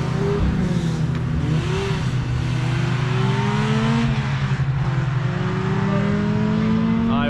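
Ariel Atom 3 engine with muffler fitted, heard from the passenger seat on a race track: a loud, continuous drone whose pitch climbs and falls through several gear changes across the whole stretch, with no talk over it.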